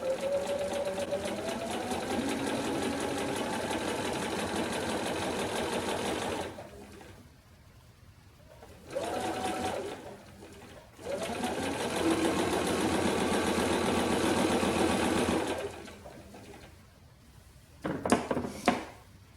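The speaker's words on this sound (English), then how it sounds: "I'm stitching right next to it." A sewing machine stitches a quilt sampler block in long steady runs, pausing twice before short bursts of stitching near the end, close and loud with no talk.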